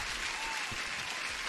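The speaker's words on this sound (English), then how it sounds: "Huge applause." Faint, even applause runs steadily for a moment as a guest joins a live futures-trading stream, a soft wash of many clapping hands without talk over it.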